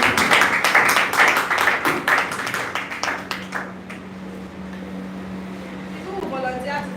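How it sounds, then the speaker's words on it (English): An audience at a conference applauds a spoken-word performer as she is called up, a dense burst of clapping that thins out after about three seconds, leaving a low steady hum and a faint voice at the end. "Please give her a round of applause."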